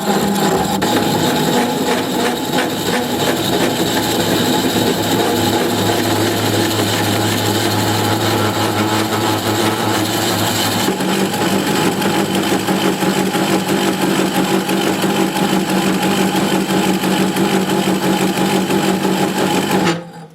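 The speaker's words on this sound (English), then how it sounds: "I'm just going to have the lathe spinning at about 175 RPM." A wood lathe spinning a drill bit at about 175 RPM drones loudly and steadily with a constant machine whine, shifting in pitch about halfway through, then cutting off at the end.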